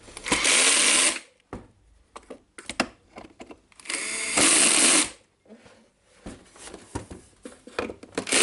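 Screws on an old DeWalt DC011 work site radio being tightened with a power driver, loud whirring bursts of about a second each, separated by quieter handling clatter and short gaps.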